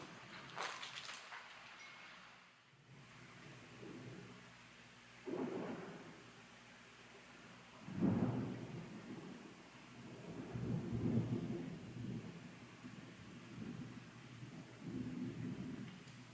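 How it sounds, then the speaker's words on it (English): A thunderstorm rolls over a house, with a sharp crack of thunder early on followed by repeated deep rumbles and a steady hiss of heavy rain, heard at moderate level with no talk. "So I kept some of the thunder in there"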